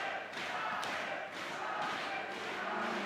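A large arena crowd at an esports grand final in Kiev roars and cheers steadily, a dense wash of applause and shouting with a few thumps, with a caster's voice faintly underneath.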